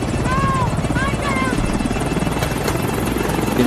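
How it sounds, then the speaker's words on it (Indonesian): Several helicopters circle a lifeboat during a film scene about Somali pirates seizing an American cargo ship, a loud steady rotor drone with a buzzing whine throughout while voices talk over it. "Beberapa helikopter mengepung Skoci."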